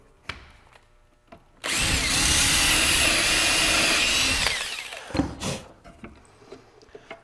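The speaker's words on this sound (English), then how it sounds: "Okay, pull it out and drill through." A power drill bores through a wooden handle peg to take a dowel, whirring loudly and steadily for about three seconds close by, framed by soft clicks and handling knocks before and after.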